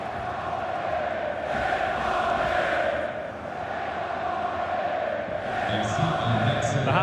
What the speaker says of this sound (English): the crowd are doing their bit